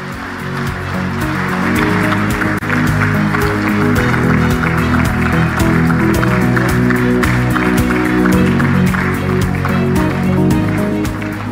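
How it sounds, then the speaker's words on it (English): Audience at an Africa energy summit in Tanzania applauding, a dense, loud, sustained round of clapping from a large crowd that rises quickly and holds steady throughout. "another big round of applause to our host"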